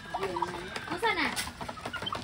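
Chickens and roosters cluck and call close by at a small start-up farm in Bohol, with several overlapping bird calls and faint background voices.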